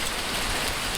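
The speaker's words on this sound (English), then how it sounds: "It is pouring down rain and the sun is absolutely shining." Heavy rain pours down in bright sunshine, a dense, steady hiss of drops striking surfaces, loud and continuous with no voices.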